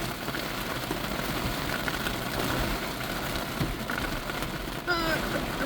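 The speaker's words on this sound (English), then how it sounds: "Here comes the rain." Steady rain pours down outdoors in the Smoky Mountains near Tellico Plains, Tennessee, a dense continuous hiss filling every moment with no let-up, loud and close throughout.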